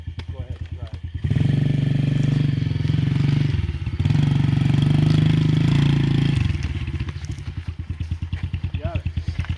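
Dirt bike engine idling with a fast putter, then revving and holding a steady drone as a learner rides off at a rental place near Estes Park, dropping back to idle; people talk throughout.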